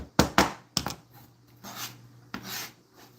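A juicy zucchini is grated by hand, giving a few sharp rasping strokes early on, then softer, scattered scraping sounds, with quiet pauses between them.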